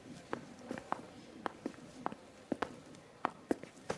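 Footsteps in a TV drama scene, a dozen or so distinct steps at a steady walking pace, moderately close and quiet, with no talking.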